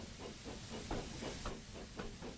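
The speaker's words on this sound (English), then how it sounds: "And with that, James puffed away to collect his waiting coaches." Steam engine hissing as it puffs away, a continuous loud hiss with a rapid, regular chuffing rhythm of about four puffs per second, close and steady.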